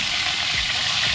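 Food sizzles and crackles as it fries in a pot, a steady close hiss for about a second with no speech.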